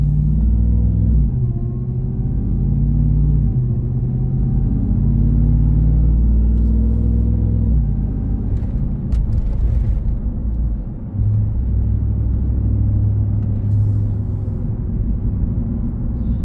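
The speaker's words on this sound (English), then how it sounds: "That supercharger sounds awesome." A 2022 RAM 1500 TRX pickup's supercharged engine drones steadily while driving, a deep rumbling hum with shifts in pitch as it accelerates and settles, fairly loud and close.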